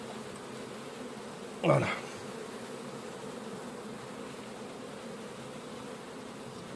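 Honeybees hum steadily around a hive as a swarm is being housed, a continuous, even buzz throughout, broken only by a brief close rustle and a short spoken word.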